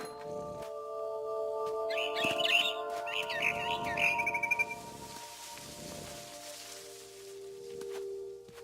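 A frightened barn swallow in the video game The Remains of Edith Finch lets out two bursts of rapid, shrill chirping, then goes quiet over a sustained humming game drone with soft rustles.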